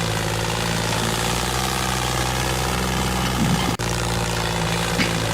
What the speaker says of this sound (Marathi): ट्रॅक्टर वर चढणार नाही असं वाटतं मला लो थर्ड वर।